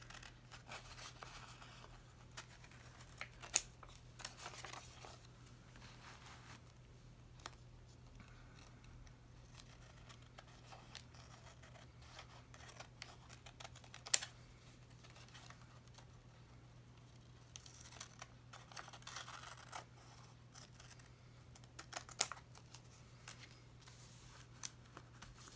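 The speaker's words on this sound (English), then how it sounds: "now I just have to trim the edges" Scissors trim the edges of journal paper in soft, sparse snips and rustles spread over about twenty-five seconds, quiet against a steady low electrical hum.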